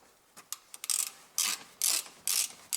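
Spanner ratcheting a bolt on the front brake caliper of a 2004–2011 BMW 1 Series, heard as a handful of sharp, close clicking bursts in an uneven rhythm, with no talking.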